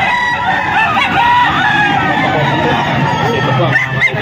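Chickens and roosters at a poultry sale, crowing and clucking at close range over a steady crowd babble, with voices talking throughout.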